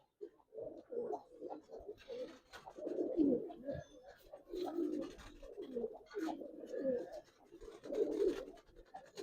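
Giribaz pigeons cooing after being released, soft overlapping coos close by in repeated low bursts, with faint scratching and movement.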